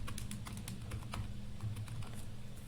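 A folder name is typed on a computer keyboard in a steady, close run of light key clicks over a constant low background hum, with no voices.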